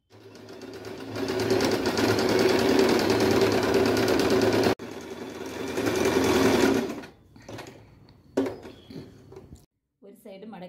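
Sewing machine stitching a folded edge on a bias-cut cross piece of fabric for neck piping, running loud and steady for several seconds, pausing briefly, then running again before stopping into short handling noises and quiet gaps.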